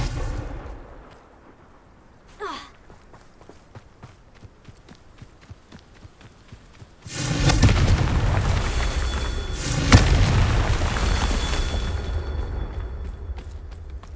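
Confringo fire spell in the Hogwarts Legacy video game, with a brief whooshing cast followed later by a loud, sustained explosive roar and crackling burst that lingers for several seconds.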